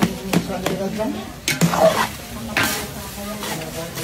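Quick, continuous stirring of laing (taro leaves with ginger and onion) in a sizzling pan, with irregular scraping strokes under a faint frying hiss while a person talks.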